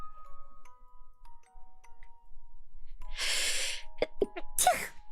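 A single loud, breathy sneeze bursts out midway through a quiet room with faint tones, followed by a few short clicks and a brief voice-like sound.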